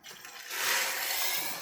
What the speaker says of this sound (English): We're going to add 6 cups of water.